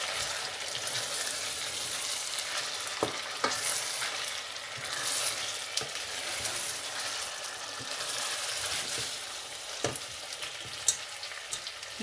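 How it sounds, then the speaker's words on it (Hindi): Chicken with garlic and ginger sautéing in a pan, an even, dense sizzle that runs throughout with a few isolated clinks and stirring scrapes, close and without any talking. "अच्छी तरह इसको भून लेंगे।"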